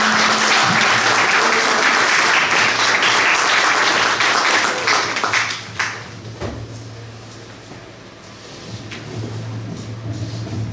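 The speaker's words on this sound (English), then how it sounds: "Can we have a round of applause?" An audience claps loudly and densely for a few seconds at the start of a band interview event, then the applause fades out, leaving low room noise and a steady hum.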